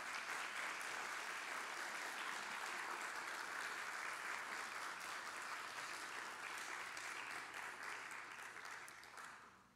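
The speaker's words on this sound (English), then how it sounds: "Please applaud these people that are doing" Sustained applause from a crowd at a city council candidate forum, a dense steady patter of many hands that holds for several seconds and fades slightly at the end.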